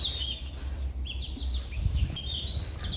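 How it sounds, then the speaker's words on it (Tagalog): Small birds chirp and whistle in short, repeated high calls outdoors around midday, fairly near and clear above a low background hum, with no talking. "Huni ng ibon."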